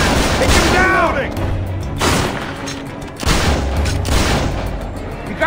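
Rapid gunfire rattles in Splinter Cell: Conviction, loud bursts of shots and booming impacts in several clusters separated by short lulls, with shouting voices mixed in among the firing.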